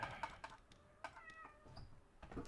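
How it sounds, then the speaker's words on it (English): A cat meows repeatedly at close range, several short harmonic cries spread across a couple of seconds, alongside quick keyboard-like typing clicks in a quiet room. "Just non-stop meowing the moment I start streaming."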